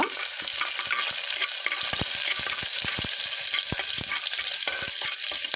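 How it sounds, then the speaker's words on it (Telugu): Crushed garlic and chopped green chillies fry in hot oil in a pan for a khichdi, giving a steady loud sizzle throughout with frequent sharp clicks and scrapes of a spoon stirring, and no talk. "ఇప్పుడు పచ్చిమిరపకాయ ముక్కలు కూడా వేసుకొని కొంచెం ఫ్రై చేయాలి"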